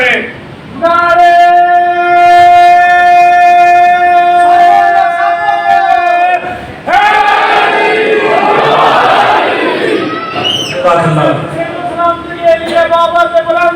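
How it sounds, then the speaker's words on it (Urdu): Crowd at a Muharram majlis sermon (4 Muharram) chanting religious slogans: a loud, sustained, drawn-out voiced call gives way to a dense, rougher surge of many voices, all close and strong. "نعرے"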